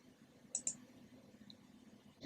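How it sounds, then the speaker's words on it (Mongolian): A computer mouse button clicks twice in quick succession, faint and close, with another soft click near the end over quiet background hum. "Хулганыхаа баруун төвчлөрийг дараад Spelling, Dynamic Spelling гэж сонгоно."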